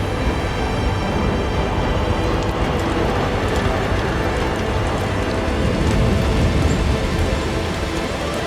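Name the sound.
rain falling in a video game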